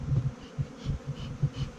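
Dense, droning buzz of many honeybees close by, pulsing in low swells with no voices.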